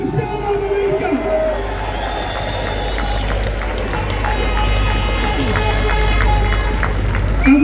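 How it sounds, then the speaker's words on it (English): A large crowd at a political rally applauds and cheers with sustained clapping, scattered whoops and shouts, staying dense and loud throughout. "Let's have a massive round of applause for Salman America."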